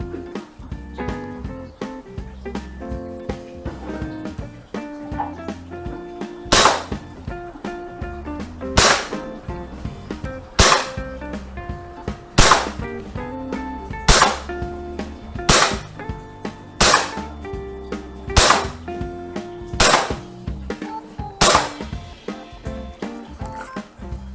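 Shots from a Walther PPQ M2 airsoft BB pistol by Umarex (VFC), fired at a target about ten meters away: roughly ten sharp, loud cracks at a steady pace of one every second or two over background music.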